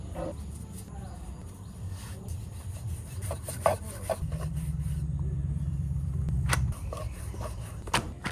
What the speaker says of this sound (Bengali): এখন এই প্যারা দিয়ে রুটি বেলতে হইবে।